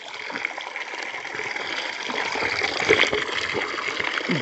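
Spring water at the Tutti Charna Shiva temple in Jharkhand flows naturally out of the ground, making a continuous close gushing and trickling rush that swells slightly toward the end.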